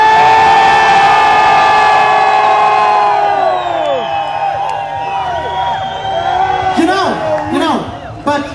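A rock concert crowd in Romania at a show screams and cheers, with loud sustained whoops and shouts at first that gradually thin out, then a few fresh cries near the end.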